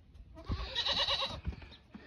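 Goats in a small shed give a short, near bleat, a single wavering cry lasting under a second against quiet shuffling.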